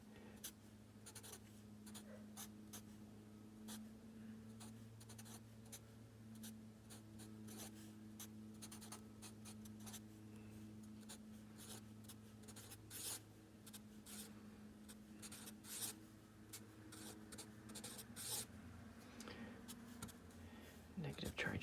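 Pen scratching on paper while a molecular structure is drawn out, with soft continuous strokes and short scribbles close to the microphone over a steady low hum.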